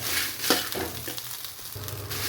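Chili powder fries in oil in a pan with a soft continuous hiss and a few light stirring knocks, heard up close with no speech.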